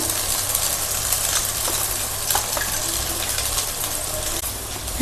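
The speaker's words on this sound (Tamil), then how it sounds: "சேமியா வடிகட்டும் போது ஒரு நல்ல தண்ணி ஊற்றி நல்லா அலசி எடுத்துக்கலாம்" Water gushes steadily and noisily as it is poured over strained vermicelli, a continuous splashing rush close by with no talking.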